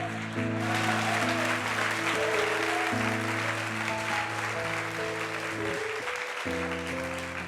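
A church congregation applauds together, a steady wash of clapping that runs the full length beneath sustained keyboard or organ chords played throughout.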